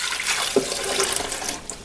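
Water poured from a measuring cup into the open reservoir of a single-serve coffee maker, a steady close splashing rush lasting about two seconds with no talking.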